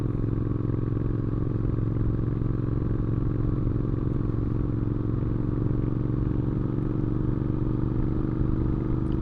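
A Triumph Scrambler 900 motorcycle on the move gives a steady, low engine drone that holds at an even level for the whole stretch, with light clatter and no voices.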